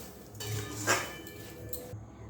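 A metal lid set over a pot of raw mangoes cooking with sugar, a short clink and rattle of metal on metal, fairly close and quiet.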